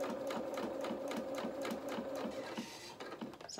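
A sewing machine stitches a doll's garment in short, rapid runs, its steady mechanical whir pulsing with each stitch before tapering off near the end, close and clear with no talking.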